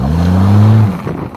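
A Jeep with an NP231 transfer case revs hard in part-time four-wheel drive as the front tire with the least traction spins, a loud, close engine whine that rises and then cuts off abruptly.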